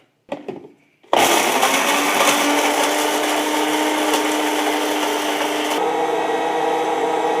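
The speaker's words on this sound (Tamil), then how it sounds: "முதல்ல மிளகாய் மட்டும் போட்டு நம்ம நல்லா அரைச்சிட்டு அதுக்கப்புறம் மற்ற பொருளெல்லாம் சேர்க்கலாம்" A small mixie grinds dried red chillies, starting after a few brief knocks and running as a loud, steady motor whir with a gritty rattle for several seconds before winding down.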